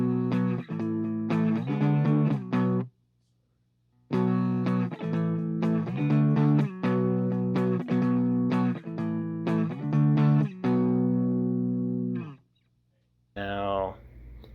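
An electric guitar played clean with its fuzz pedal switched off rings out in plucked notes and short phrases, clear and sustained, with pauses between runs and a brief sliding sound at the end.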